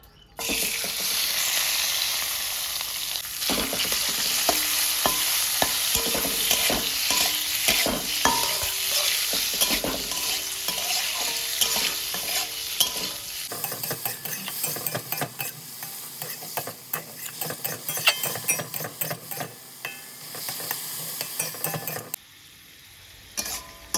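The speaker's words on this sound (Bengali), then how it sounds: "চিকেনটা ভাজা হয়ে গেছে এখন আমি তুলে নেব" Chopped chicken pieces fry in a pan with a steady, dense sizzle and repeated scrapes and clinks of stirring. Past the midpoint the sizzle turns thinner and quieter, then it cuts off briefly near the end.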